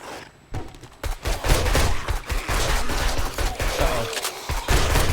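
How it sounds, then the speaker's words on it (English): Automatic gunfire from the video game 7 Days to Die rattles in fast, loud, close bursts that start after a short quiet moment and keep going with small gaps, and no one speaks. "he is out shooting at something again"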